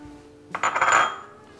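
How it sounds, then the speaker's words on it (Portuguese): Sugar pours into a cooking pot in a home kitchen, a short close gritty rattle and hiss against metal lasting under a second, with no talking. "Vou colocar neste tacho o açúcar"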